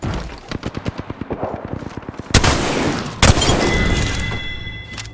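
Rapid automatic gunfire in the shooter Apex Legends, a quick train of close, sharp shots followed by two louder heavy bangs and a crackling, ringing tail.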